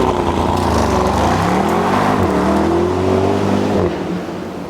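A 2024 Mercedes-AMG SL63 4Matic+ Roadster drives along with a loud, steady engine drone whose pitch rises and shifts with the revs, fading slightly near the end.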